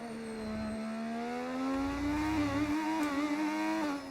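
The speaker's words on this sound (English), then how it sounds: "The engines we're using are V6s. They're not V10s." Original V6 Formula 1 engine from the 1986 season in a racing game, a steady rising engine whine climbing through the revs with a brief upshift dip and slight warble near the end, loud and close, no talk.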